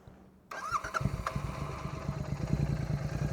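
A Royal Enfield GT 650 motorcycle fitted with an aftermarket exhaust cranks and fires up after a quiet moment, then settles into a steady, close, pulsing idle.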